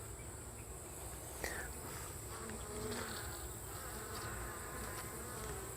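Bees in a queenless hive drone steadily around the comb, a close, continuous buzzing with no voices over it.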